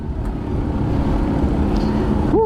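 Steady road traffic noise with cars and other vehicles rumbling close by, a continuous loud wash of engine and tyre sound that briefly ends with a rising tonal squeal.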